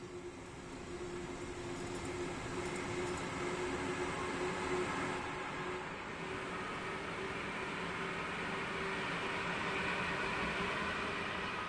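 A rumbling train on the Bremen–Oldenburg line in northern Germany, simulated in Train Sim World, rolls along with a steady mechanical drone, a humming electric tone and rail noise, continuous and moderately loud throughout with no talk.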